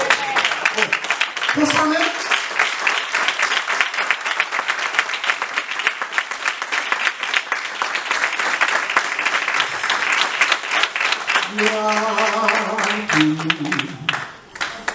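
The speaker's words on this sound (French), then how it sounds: "On nous applaudit le Seigneur." Church congregation at a revival service claps for the Lord, loud sustained applause with scattered voices and a brief spoken phrase and singing tones at the start and near the end.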